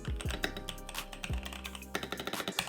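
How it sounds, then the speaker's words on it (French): Typing on a wireless computer keyboard, close and crisp, with a quick irregular run of key clicks and thocks, a few louder presses standing out, and no talk. "À côté, on a le clavier,"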